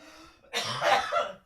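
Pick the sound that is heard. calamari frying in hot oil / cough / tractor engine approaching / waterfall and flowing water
cough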